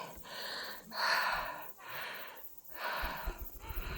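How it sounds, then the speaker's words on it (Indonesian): Heavy, rhythmic panting from a hiker nearing the summit of Mindungsan mountain in Korea, close breathy gasps in four or five long drawn breaths, loud against quiet outdoor background. "Sorry kalau ngos-ngosan ya."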